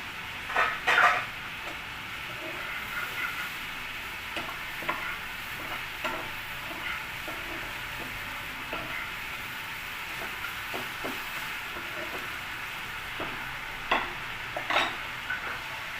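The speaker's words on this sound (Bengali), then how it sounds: "একটু কষিয়ে নিচ্ছি মশলাটার" Spices frying in a pan with a steady low sizzle while a spoon stirs and scrapes them now and then, close up and moderately quiet, with no talking.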